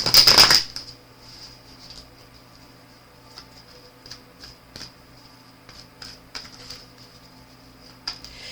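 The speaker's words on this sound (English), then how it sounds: "Gonna give this one a good shuffle." Cards are riffled in a loud, brief burst at the start, followed by a few soft scattered taps and clicks over quiet background.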